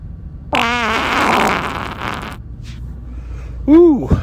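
A loud, wet fart rips out with a rising, sputtering buzz for nearly two seconds, followed by a brief quieter squeaky burst near the end.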